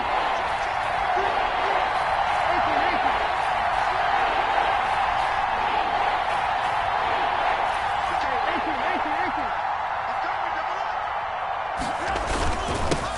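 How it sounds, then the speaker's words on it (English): A broad, sustained crowd roar from an American football video game runs steadily at moderate level through the whole stretch, with a brief burst near the end and faint commentary-like voices mixed underneath. "the crowd getting into it as we come up on a big 3rd down"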